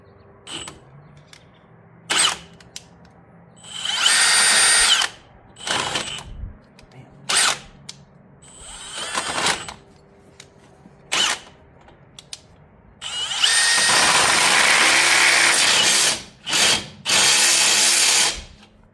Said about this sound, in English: You're going to need to take a 5/8 drill bit and then drill this out just a little bit